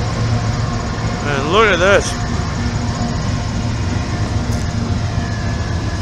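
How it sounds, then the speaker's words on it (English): A train rumbles steadily nearby at a riverside sturgeon fishing spot, with a low engine drone, a brief screeching whine, and a person talking briefly over it. "Sorry about the train."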